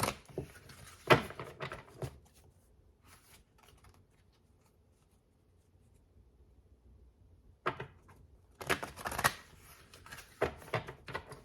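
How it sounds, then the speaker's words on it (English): A deck of archetype cards is shuffled up close, with short crisp bursts of riffling and shuffling at the start, a quiet pause, then another flurry of papery card sounds near the end. "I'm just going to shuffle 3 more times"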